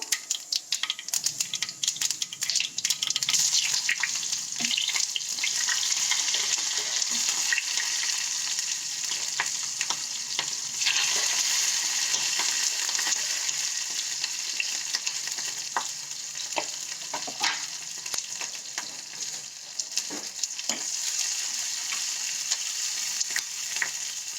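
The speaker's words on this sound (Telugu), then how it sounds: "చూడండి చిటాపటా అంటున్నాయి కదా. ఉల్లిపాయలు కూడా వేసేద్దాము." Spices crackling in hot oil with onions frying in a pan for a country chicken curry, a loud continuous sizzle broken by sharp pops and stirring clatter, with no talking.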